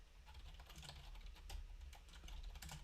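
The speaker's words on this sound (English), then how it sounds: "you most likely hate when I'm typing" Steady, rapid typing on a loud, clacky computer keyboard, close and continuous with busy overlapping key strikes, no talking.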